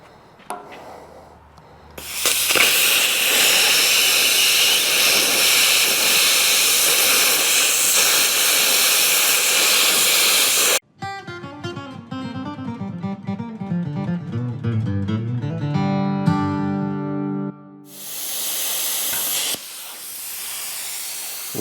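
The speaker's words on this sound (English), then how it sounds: "This little AutoGen plasma cutter, you hook it up to the air compressor, you can run it on 220 or 110, either way, and man, it will cut." An AutoGen plasma cutter cuts metal on a tractor bucket, fed by an air compressor. A loud, steady hiss runs for several seconds, then gives way to a choppy buzzing, ending with another burst of hissing air.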